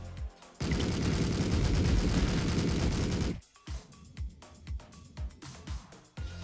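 Gunfire in the video game Streets of Rogue: a dense burst of rapid shots for a few seconds, then a string of separate sharp single cracks, all fairly close.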